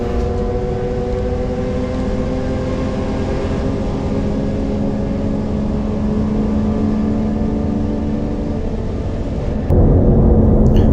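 A race car engine at Pukekohe revs hard, flat out up a hill, holding a loud, steady high-pitched roar up close, shifting slightly near the end.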